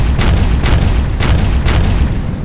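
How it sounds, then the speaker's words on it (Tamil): Tanks firing upward together as a loud, dense sound effect: four heavy booming blasts about half a second apart over a steady low rumble, with no talk. "அங்க இருந்த எல்லா டேங்க்ஸும் மேல பார்த்து ஃபயர் பண்ண ஆரம்பிக்குது"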